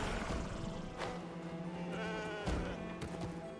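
A goat in the video game Genshin Impact gives a few wavering bleats, close and clear over a soft game background.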